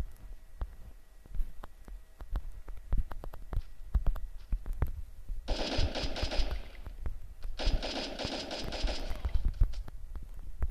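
Gunfire comes from a house in a video game. Rapid sharp shots crack throughout, and two dense bursts of automatic fire land a few seconds apart.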